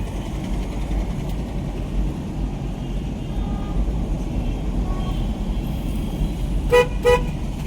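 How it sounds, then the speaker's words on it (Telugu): Busy road traffic in a congested stretch, with a constant engine and tyre rumble of cars and trucks and a couple of short car horn toots sounding close by toward the end. "ట్రాఫిక్ అయితే ఫుల్ ఉంది"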